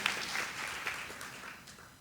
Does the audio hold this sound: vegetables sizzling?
no